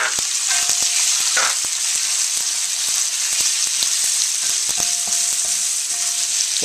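Pork stir-frying on the highest heat for stir fry ramen, a loud continuous sizzle broken by repeated sharp clicks and scrapes of a utensil against the pan, close with no voices.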